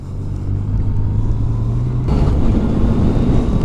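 A 2020 Yamaha Tracer 9 GT motorcycle is ridden with a loud, steady engine drone and wind rush, and the pitch and roar rise partway through, as on a gear change or when accelerating.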